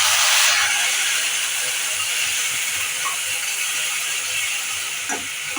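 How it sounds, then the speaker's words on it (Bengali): Yogurt and cream paste hitting fried onions in a hot pan, a loud hissing sizzle that starts sharply and settles into a steady steamy crackle throughout. "এবার এর মধ্যে যে আমি পেস্টটা বানিয়ে রেখেছি দই ক্রিম টিম দিয়ে, এটা আমি এর মধ্যে দিয়ে দেবো"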